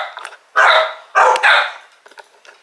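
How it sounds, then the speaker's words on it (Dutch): A dog barks outdoors near a dike, a few loud, close barks in quick succession after some softer scuffling, then quieter sounds trailing off, with no talking. "Laat hem maar blaffen"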